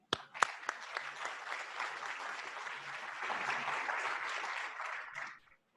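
An audience applauds to welcome a speaker at a large gathering on COVID-19 planning, a full round of clapping that swells steadily for about five seconds and then stops abruptly.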